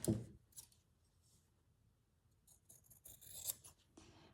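Scissors trim fabric for a slow-stitched zipper project, with a few quiet snips and rustles of cloth spread across a mostly hushed stretch.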